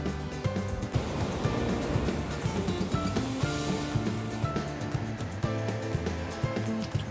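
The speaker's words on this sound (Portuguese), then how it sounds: "A faixa de areia é bem curta, pedra para tudo que é lado e as ondas batem forte." Strong waves break against a rocky shoreline on a short strip of sand at a hidden Bali beach, giving a continuous loud roar and wash, with a low engine-like drone running underneath.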